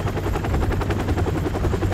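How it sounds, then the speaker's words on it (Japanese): Helicopter in Call of Duty: Modern Warfare Remastered, a loud, steady rotor drone with a rapid rhythmic chop that holds close and constant throughout, with gunfire-like pulses in the mix. "リアルですね、ヘリコプターね"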